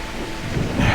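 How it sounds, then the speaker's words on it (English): Heavy rain pours down with a low rumble of thunder rolling through it, a dense steady wash of drops that swells slightly toward the end. "As the rain began to fall harder"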